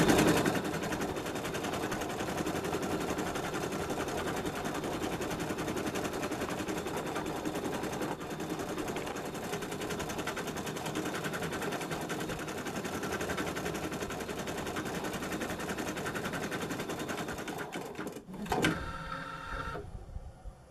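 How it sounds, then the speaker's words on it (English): An embroidery machine stitches an applique placement line for a snowflake design, a steady, fast mechanical whirring and rattling that runs continuously before stopping abruptly near the end. "the machine is actually stitching the placement line"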